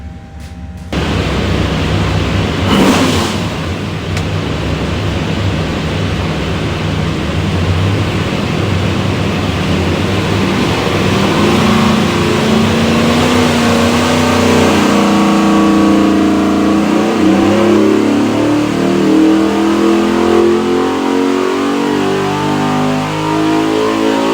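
A 429 cubic inch LS3 V8 on an engine dyno roars loud and steady, climbing through a long rising rev pull with harsh, dense exhaust noise from start to finish and no talk.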